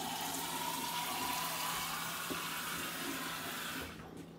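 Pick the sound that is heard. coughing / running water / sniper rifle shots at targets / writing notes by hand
running water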